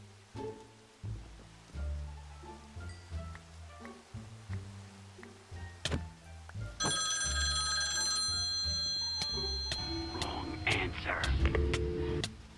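An in-game telephone ringing in Minecraft, with bright repeated ring tones starting midway and continuing loudly to the end over a busy game soundscape of scattered thuds and clicks.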